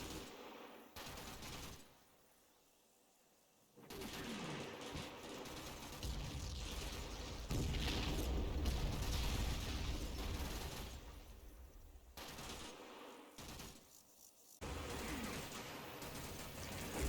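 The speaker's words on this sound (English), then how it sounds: "Mortars start to fall north of A Company's form-up point" Mortar shells falling in Combat Mission during a Monte Cassino battle at a gorge, heard as a continuous barrage of loud blasts and crackling gunfire that swells for several seconds after a brief lull.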